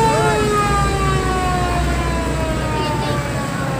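Fire engine siren wailing loud and steady as the truck arrives at the scene of a burst electric pole, with rising and falling tones over dense street noise and faint background voices.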